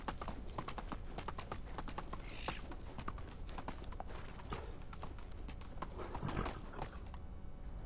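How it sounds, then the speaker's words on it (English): Horse hooves clip-clop steadily in the Medieval Dynasty video game, a brisk galloping rhythm of hoof strikes that runs throughout, with a brief whinny and no talking. "Oh, the horse ain't got much stamina."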